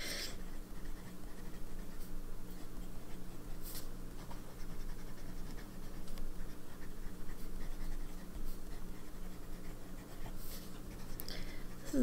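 A TWSBI fountain pen scratches across paper in a steady, faint, close-up stroke sound with a low hum beneath it.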